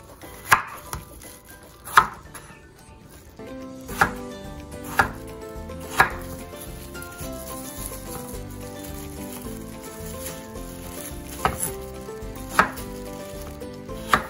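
Tomatoes being chopped on a board as the first step of sautéed sardines: sharp knife knocks land roughly every two seconds over a steady low kitchen background, close and clear, with no speech.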